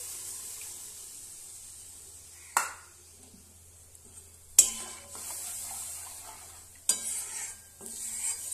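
Spice paste mixed with water being stirred into fried tomatoes in a pan, three distinct scraping splashes against quiet sizzling, with soft clinks and calm pauses between strokes.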